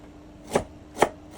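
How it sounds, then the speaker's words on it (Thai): Two sharp knife chops on a cutting board through ginger and garlic, about half a second apart, close and crisp against a quiet kitchen background with no talking. "ผมก็จะมาหั่น ขิงกับกระเทียมนะครับ"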